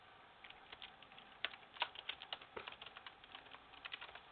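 Quick, light keystrokes on a computer keyboard, typed in short irregular bursts, close and fairly quiet with no voices.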